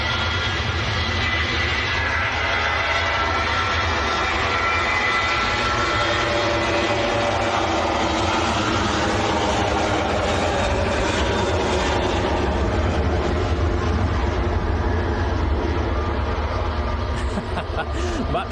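An EasyJet airliner taxiing at Manchester Airport, its engines a steady, loud broadband roar that holds for the whole stretch under faint background chatter.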